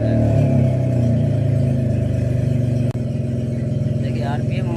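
A Renault Kwid car engine, one that has had long-starting and misfire trouble, idles steadily and close at a corrected RPM, a low even rumble with a short click partway through.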